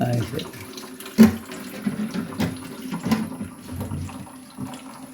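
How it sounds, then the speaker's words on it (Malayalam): Water runs steadily from a tap into a container indoors, a continuous close splashing flow with a few louder knocks and clunks along the way. "ആദ്യം രണ്ട് വെള്ളം നിറച്ചിട്ട് വെള്ളം നിറഞ്ഞു കഴിയുമ്പോൾ സ്വിച്ച് ഓഫ് ആക്കുക"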